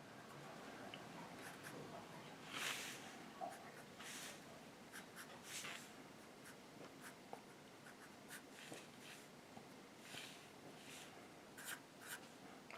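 Pencil drawing on paper for a cartoon athlete sketch: faint, close scratchy strokes in short irregular bursts across a quiet background, with no talk.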